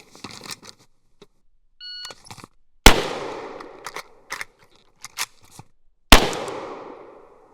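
Two loud, sharp gunshots from an IWI Galil Ace 5.56 rifle with an offset red dot, each cracking close with a ringing decay, between small handling clicks, beeps and rattles of a reload.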